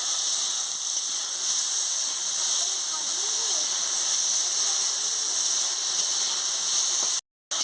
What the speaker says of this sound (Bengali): সামান্য একটু নুন দিয়ে ঢেঁড়সগুলোকে ভেজে নিচ্ছি।